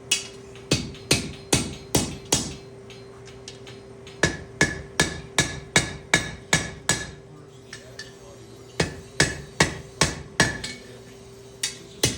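Repeated hammer blows ring on metal over an anvil during hand forging of a skull bottle opener, struck in quick bursts of four to six hits with short pauses between groups, close and loud.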